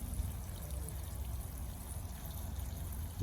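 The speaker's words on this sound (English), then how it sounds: "I'm going to give it a very good water indeed. This is a 12 litre pot, watering can" A watering can pours water steadily into a 12 litre container holding a rose, a soft continuous trickle and splash close by.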